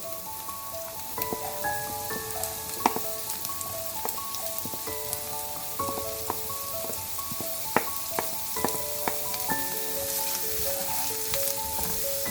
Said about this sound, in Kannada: ಅದನ್ನು ಎಣ್ಣೆಲಿ ಸ್ವಲ್ಪ ರೋಸ್ಟ್ ಮಾಡ್ಕೊಳ್ಳಿ